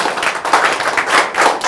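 Audience in a lecture hall breaking into a round of clapping, many hands sounding together in a dense, steady burst of applause close by.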